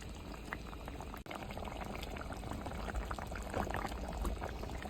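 Chicken roast simmering in milk in a pot, a soft continuous bubbling close by with a single brief knock early on and no talk.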